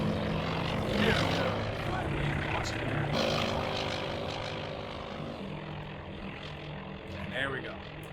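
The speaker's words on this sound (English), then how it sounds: "my 2 search planes are now launched and they're going up" Propeller search planes launching in the naval strategy video game Task Force Admiral, a droning aircraft engine hum that slowly fades as the planes climb away, heard without talk.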